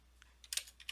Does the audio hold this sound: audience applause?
no